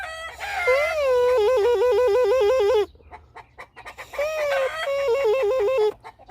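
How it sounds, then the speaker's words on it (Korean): A rooster crows twice in long, loud wavering calls, with chickens clucking in short bursts between them. "저 닭소리 에 시끄러 네"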